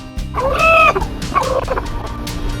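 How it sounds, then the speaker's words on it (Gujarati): A black rooster with white ears on a village farm gives two loud, close, harmonic calls, a longer one followed by a shorter one, over quiet background noise. "આ તો જો ધોળા કાનવાળો કાળો મુર્ગો"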